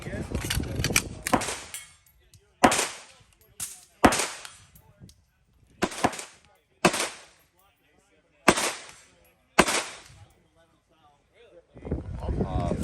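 Pistol shots at a shooting range during a gun convention range day, about six loud, sharp reports spaced a second or two apart, each with a short ringing decay, with people talking at the start and end.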